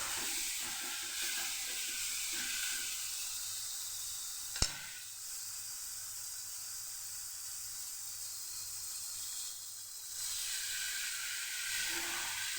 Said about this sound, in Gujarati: અહીંયા આપણે હવે દૂધને ઉમેરી દઈશું